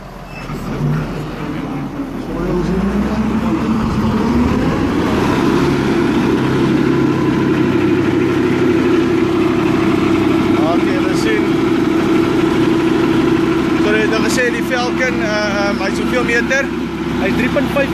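A John Deere tractor rated at 105 kilowatts, shown at a hay day demonstration, idles with a loud, steady engine drone close by while people talk nearby.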